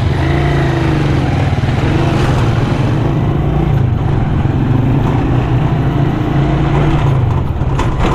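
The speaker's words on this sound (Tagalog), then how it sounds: "Sira na yung corona nitong motor na ito." Motorcycle with a worn sprocket, riding home from a market, its engine a steady loud drone throughout with no talk, mixed with road and wind rumble.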